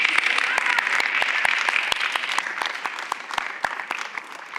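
Audience applause at a panel on women's economic power: a dense, steady clapping of a crowd indoors, sharp individual claps standing out, gradually thinning toward the end.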